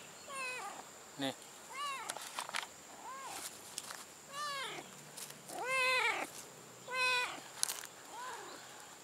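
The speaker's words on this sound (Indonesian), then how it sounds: "Ada anak kucing, bosku." A thin, hungry abandoned kitten meows repeatedly in short rising cries at a fishing spot, fairly close, with bits of quiet talk and faint footsteps between the calls.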